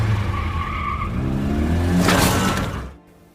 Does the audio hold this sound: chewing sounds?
no